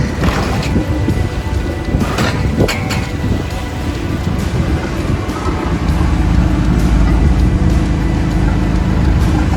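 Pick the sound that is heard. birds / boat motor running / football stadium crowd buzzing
boat motor running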